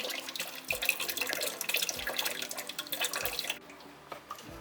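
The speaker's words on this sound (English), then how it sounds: "So this is where I'm getting the water from my filtered water filtration." Filtered water runs steadily from a home filtration tap for watering plants, a continuous close splashing stream that thins toward the end.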